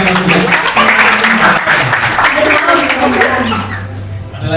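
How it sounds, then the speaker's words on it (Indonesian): Audience applause at a testimonial gathering, loud and continuous for several seconds, thinning slightly near the end, with voices talking over it. "Tepuk tangan dong,"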